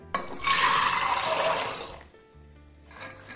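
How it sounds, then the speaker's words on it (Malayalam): Water pours steadily into a pressure cooker over soaked, washed chickpeas in a home kitchen, a loud rushing splash that stops after about two seconds, followed by faint clinks. "കടല നിരക്കെ വെള്ളം ഒഴിച്ചു കൊടുക്കാം."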